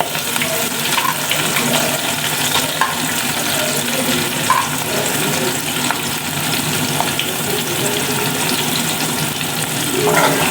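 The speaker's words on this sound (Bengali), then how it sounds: "পেঁয়াজটা একটু ভাজা ভাজা হোক" Onions fry loudly in a pan for a thin, green-chili curry, a continuous crackling sizzle with occasional stirring scrapes and a watery hiss throughout, no talking.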